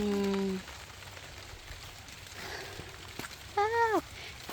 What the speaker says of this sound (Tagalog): Pero ang lakas na ng ulan.